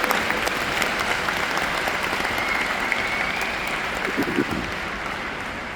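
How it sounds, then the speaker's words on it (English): An audience at a company seminar in Budapest applauds the staff with steady, dense clapping from many hands that carries on throughout. "So please, big applause to all the staff here."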